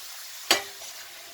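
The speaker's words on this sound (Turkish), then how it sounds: "Diğer yüzünü de şöyle kızartalım." A sudden hiss as something drops into hot oil, then a soft steady sizzle of potatoes frying close by.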